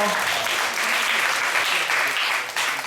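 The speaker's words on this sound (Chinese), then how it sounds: "啊，没有声音，给点掌声好不好？" An audience at a student debate final breaks into loud, sustained clapping that fills the whole stretch without letup.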